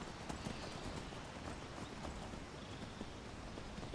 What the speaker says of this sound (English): Can't believe Valdar's horse found us so quickly.